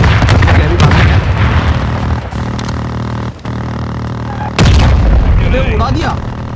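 Explosions in Call of Duty: Modern Warfare II (2022) on PC boom loudly up close, a heavy low rumble with a sharp fresh blast near the end.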